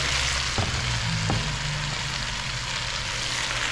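Vegetables and cassava tumbling into a hot pan, a couple of soft thuds at the start, then a steady loud sizzle of frying with faint stirring underneath.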